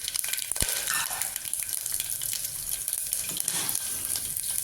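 Ginger garlic paste, cumin, red chillies and green chilli sizzle in a hot pan for millet sambar, a busy crackling fry with occasional stirring scrapes, close and steady, without talking.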